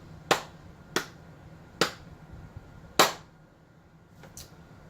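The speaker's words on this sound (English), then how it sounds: "So a round of applause." A few slow, isolated hand claps, five sharp cracks spaced irregularly about a second apart, each ringing briefly in an otherwise quiet room.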